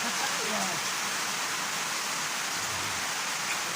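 Rain falls steadily as a dense, even hiss, close and continuous throughout, with a faint voice underneath.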